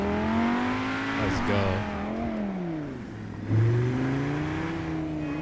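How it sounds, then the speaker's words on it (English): NPC cars drive around in the GTA 5 video game with engine hums and revs that rise and fall in pitch as gears shift, fairly close and steady, under a man's brief speech. "this is pretty cool to have the NPC just driving around with like the car sound also"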